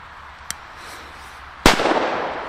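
Small Chinese firecrackers (Böller) going off at New Year's Eve: a faint pop, then one loud sharp bang with a crackling tail, close by and alone without voices.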